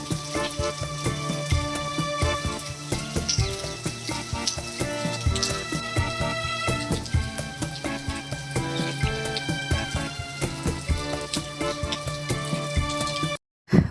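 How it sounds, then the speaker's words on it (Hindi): Steady rain falling in the afternoon, a dense continuous patter and splashing with scattered sharper drips, fairly loud and unbroken, cutting off abruptly just before the end. "लगभग ढाई बजे बहुत प्यारी-सी बारिश शुरू हो गई थी"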